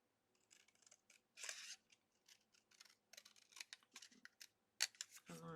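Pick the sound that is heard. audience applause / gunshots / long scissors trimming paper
long scissors trimming paper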